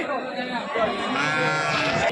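Several sheep bleat repeatedly and overlapping, fairly close, at a sheep market in Gudur, Nellore, with a busy crowd of animal calls and faint murmuring voices underneath.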